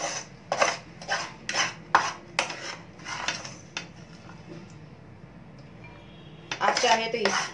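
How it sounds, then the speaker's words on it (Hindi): A spoon scraping a pea and coconut mixture out of a kadhai into a bowl: a rapid series of sharp metallic scrapes and clinks, a quieter lull, then a final burst of scraping, close by. "अब मैं गैस बंद करके इसको एक बोल में ट्रांसफर कर लेती हूँ"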